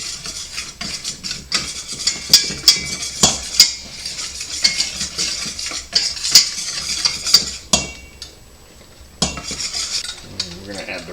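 A utensil stirs flour into a roux in a pot for scallop chowder, giving close, irregular metallic scrapes and clinks against the pot with a soft sizzle beneath, then a short quieter stretch near the end.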